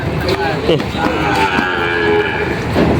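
Cattle and carabao at a livestock market in Padre Garcia, Batangas: repeated loud moos and lows from several animals overlapping, with background chatter and market noise throughout.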